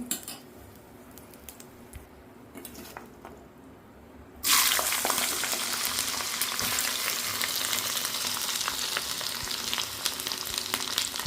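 The next batch of spice mix for karam hits hot oil partway through, a quiet scraping stretch suddenly giving way to a loud, dense, steady frying sizzle that holds to the end.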